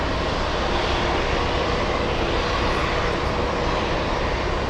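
An airliner on final approach to Boston Logan International Airport gives off a continuous, loud, broad engine roar, steady and close, with no voices.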